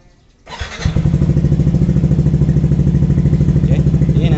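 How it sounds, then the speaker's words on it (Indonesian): A motorcycle fitted with a Vproject open-loop piggyback controller starts up after a short silence, then settles into a loud, close, steady idle with an uneven, rising-and-falling rhythm. "jadi sekarang udah bisa dinyalakan motornya"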